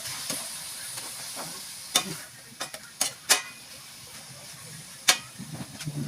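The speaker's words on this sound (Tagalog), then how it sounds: "Lugasan natin yung giniling." Ground pork sautéing in a pan, a quiet background sizzle broken by a few sharp scraping and tapping strokes of a utensil at irregular moments.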